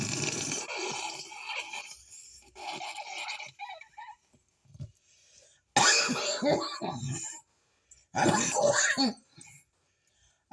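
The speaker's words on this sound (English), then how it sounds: "I'm coughing, but as you can see, I'm coughing." Several bursts of harsh coughing and throat clearing, close and loud, separated by short pauses.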